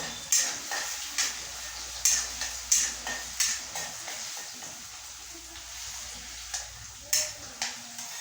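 Potatoes frying in a pan during fasting-food cooking, with soft steady sizzle and repeated scraping clinks of a spatula stirring against the metal, close and moderate.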